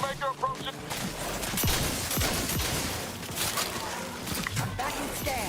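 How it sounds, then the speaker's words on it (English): An ice shotgun firing in the sci-fi game Outer Worlds 2, a burst of sharp blasts and crackling impacts amid combat noise, with a voice talking over the action. "Oh, is this an ice shotgun?"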